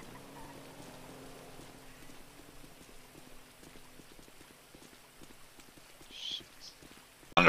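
Steady light rain patters on a surface, with faint voices murmuring underneath and a sudden loud knock at the very end.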